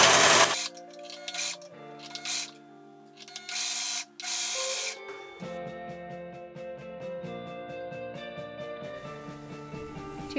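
Serger overlock machine stitching a seam on a vintage-style baby dress, bursts of fast mechanical whirring that stop and start, then a longer steady run of rapid rhythmic stitching, close and clear.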